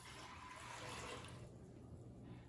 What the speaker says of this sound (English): To the beans, I'm gonna add 3 cups of fresh water.